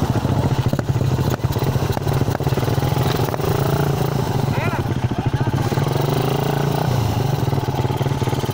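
Suzuki Raider 150 carbureted motorcycles rev at a drag race, a busy buzzing engine drone with rattling and rising revs, while people talk over it throughout.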